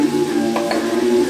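Vegetables and spices (paprika, turmeric, coriander, cumin and pepper) fry and caramelize in a pan, a loud close sizzle with a steady low hum and a couple of brief stirring bursts in the middle.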